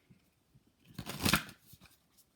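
A brief riffle of oracle cards being shuffled, a soft papery flutter that swells for about half a second and fades, close and quiet.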